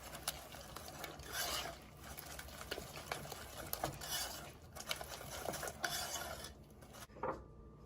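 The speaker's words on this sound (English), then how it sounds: "I'm going to mix this up, get those eggs incorporated well." Eggs and light brown sugar for an oatmeal pie are stirred briskly in a bowl, a utensil scraping and clinking against the sides in quick, steady strokes, close but fairly quiet.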